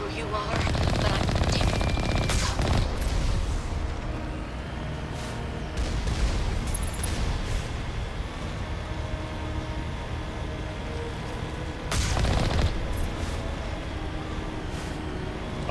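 Alliance turrets fire in the Mass Effect game in rapid, loud automatic bursts with heavy impacts, strongest at the start and again near the end, under game sounds and occasional voices.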